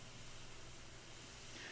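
Red spray paint hisses out of an aerosol can in one steady, close spray that lasts the whole moment, with no voices.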